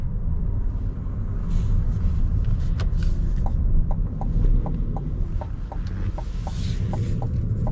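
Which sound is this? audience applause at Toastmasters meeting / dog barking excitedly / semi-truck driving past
semi-truck driving past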